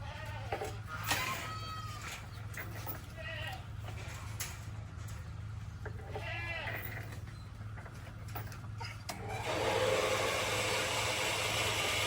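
Several goats bleat in bursts over a steady low engine hum, with broadband outdoor noise rising near the end.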